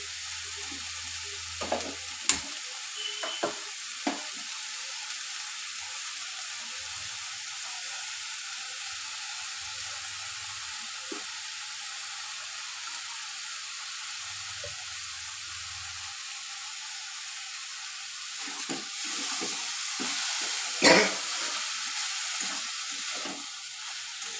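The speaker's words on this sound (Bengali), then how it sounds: "এটাকে হাই ফ্লেমে আমি নেড়ে চেড়ে নেব।" Moong dal khichdi fries on a high flame with a steady broad sizzling hiss throughout. Occasional soft scrapes and knocks come from stirring in the pot. No one speaks.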